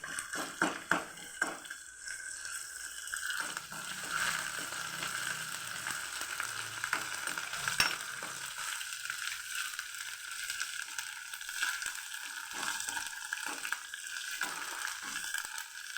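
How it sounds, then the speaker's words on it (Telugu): Onions with ginger garlic paste frying in a pan for a bottle gourd curry, a moderate sizzle that swells early, thins out, then carries on under soft scraping and stirring sounds. "ఇప్పుడు ఉల్లిపాయలు వేగినాయండి. అల్లం వెల్లుల్లిపాయ పేస్ట్ కొంచెం వేసేద్దాం."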